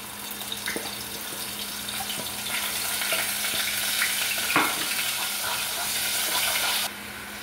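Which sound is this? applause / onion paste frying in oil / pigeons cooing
onion paste frying in oil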